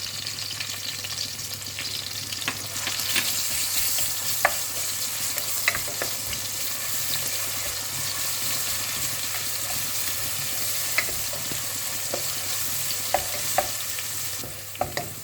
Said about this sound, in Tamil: வெங்காயம் லேசாக வதங்கிட்டோன்னே கொஞ்சம் பூண்டு இஞ்சி இடித்து வச்சுருக்கேன் பாருங்க, அதையும் சேர்த்துக்கலாம்